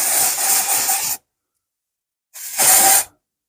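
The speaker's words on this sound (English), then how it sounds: "I'm going to pop on some dry shampoo for this little bad boy" Dry shampoo sprays onto an ashy blonde wig in two short bursts, a close hissing spray of about a second, a second of silence, then a shorter second hiss.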